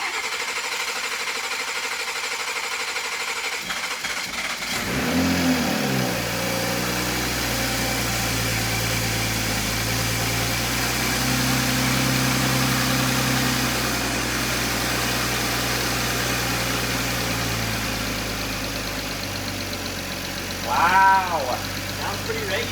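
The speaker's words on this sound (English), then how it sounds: "So we are ready for our first startup after putting the engine back together." A freshly rebuilt Toyota Supra 3.0 engine cranks and catches, then settles into a steady, even idle that runs on, with a brief higher whine near the end.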